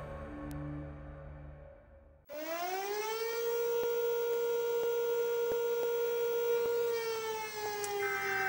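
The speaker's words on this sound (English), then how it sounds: "all the sirens are going" Civil defense sirens sounding for a tsunami evacuation across a coastal town, a loud sustained wailing tone that rises and holds after a quieter first two seconds, with no speech.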